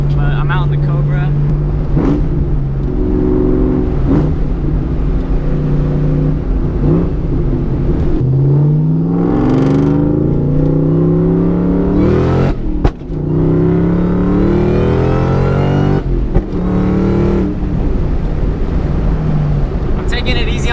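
A Shelby Cobra's engine pulls through gears while driving, its note rising and dropping with several loud upshifts and revs up close, and someone talks over it now and then.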